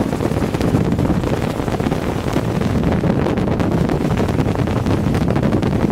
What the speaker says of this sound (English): the wind tossing us around a little there